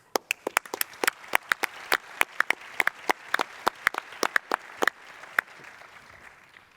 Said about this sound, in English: Maybe we can at least give them a round of applause.